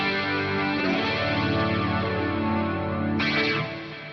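Electric guitar played through a Headrush amp simulation with stereo reverb and delay, a sustained distorted tone with chorus-like shimmer and an echoing tail, loud and alone, ending with a fresh strum before fading.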